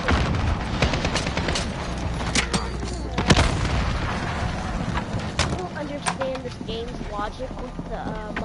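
Grenade blast in a PS4 shooter game: a sharp boom rises out of dense ongoing gunfire and impacts. Several other bangs are scattered through the clip, and players talk over the battle noise.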